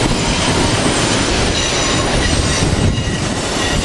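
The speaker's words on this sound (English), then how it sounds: "Here we got Acelas train 2126 with 2017." An Amtrak Acela passenger train passes close through a station, a loud steady roar of wheels on rails with faint squealing and clicking, continuous throughout.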